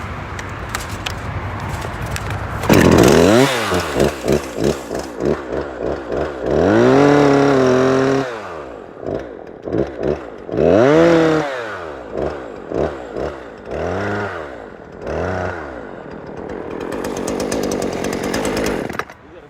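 Small gasoline-powered grass-cutting machine, likely a trimmer or mower, revving in repeated bursts and settling to idle between them, close and loud, with no talking.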